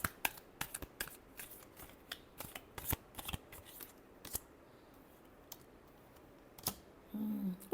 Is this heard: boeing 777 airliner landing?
no